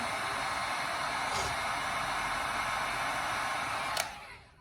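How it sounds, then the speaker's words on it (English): A heat gun warms a sticker on a paint-splatter tumbler, its steady, close blowing roar running unbroken for about four seconds before it cuts off and tails away. "So I get my heat gun"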